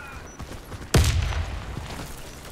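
A grenade explodes with a sharp, loud boom in the shooter game Warface, followed by a rumbling tail and scattered gunfire at a distance, with no talking.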